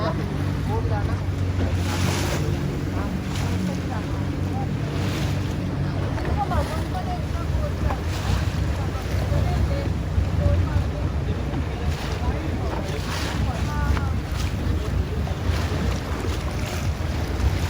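Sea water surging in and pulling back along the rocky Konkan coast, a steady broadband wash with wind buffeting the microphone throughout, while voices talk faintly in the background.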